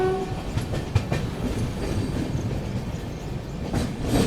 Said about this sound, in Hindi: चलिए ट्रेन अपनी पहुंच रही है बल्लारशाह रेलवे स्टेशन दोस्तों।